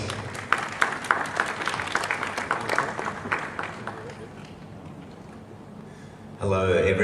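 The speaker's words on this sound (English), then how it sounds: "Further round of applause." Conference audience applauding, a steady patter of clapping that fades gradually before a louder burst of noise near the end.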